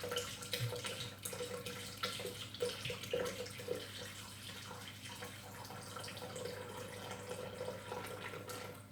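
Water pours steadily and quietly into a container for raspberry lemonade, a soft, continuous splashing trickle with faint drips.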